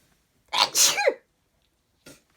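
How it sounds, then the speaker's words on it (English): A single loud, close sneeze with a sharp intake and burst, followed by a brief faint sound afterward, otherwise quiet. "I'm going to sneeze now"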